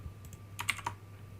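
A short, soft burst of typing on a computer keyboard, with a few quick clustered keystrokes close by against a quiet room hum.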